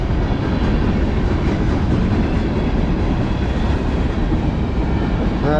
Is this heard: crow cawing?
no